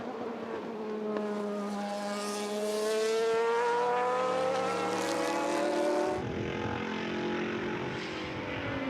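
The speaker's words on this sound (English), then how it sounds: "That BMW right there, good for 580 horsepower." A 580-horsepower BMW race car at a vintage motorsports reunion race, its engine note rising loudly as it approaches and passes close by, then dropping in pitch and fading away down the track.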